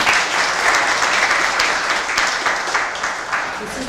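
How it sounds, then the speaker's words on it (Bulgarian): An audience at the TuxCon 2018 conference quiz bursts into steady, sustained applause, a thick continuous patter of many hands filling the room at even loudness. "Аплодисменти за Ани."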